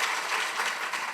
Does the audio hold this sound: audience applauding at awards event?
yes